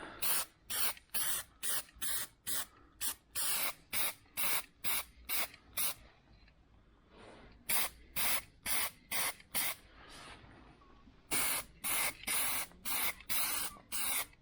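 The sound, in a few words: spray can primer being sprayed on car panels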